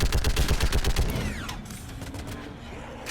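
Rapid automatic gunfire from Mass Effect 3 combat, a dense close burst of evenly spaced shots lasting about a second, then tapering into a whistling ricochet-like sweep and quieter background action.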